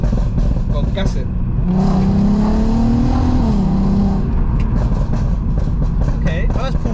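Volkswagen Golf R MK7 with Stage 2 tuning accelerating hard, engine note rising steadily as it revs up through a gear, loud and continuous inside the car with people talking over it.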